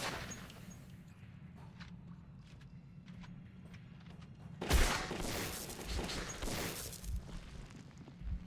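Gunfire from a weapon in the Metro 2033 video game: a loud burst of rapid shots erupts midway and lasts a few seconds, following quieter scattered pops over a steady low rumble of background game ambience.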